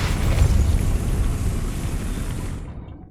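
A Depulso spell goes off in Hogwarts Legacy as a loud, deep booming blast that rumbles for a few seconds and then fades out.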